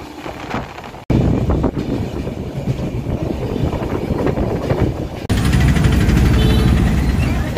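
A passenger train rolls along the rails on a trip to Puri, giving a loud, steady rumble and rattle with a sudden jump to a heavier roar partway through.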